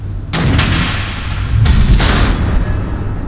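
Missiles explode in Batman: The Enemy Within, two heavy booming blasts about a second apart, each with a deep rumbling roll and a loud crackling wash that trails off.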